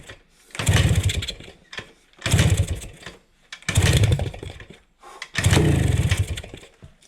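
A 1971 Kawasaki F7 motorcycle engine fires up in four separate loud bursts, each roaring for about a second before dying away into quiet gaps, as the bike runs briefly and then stalls.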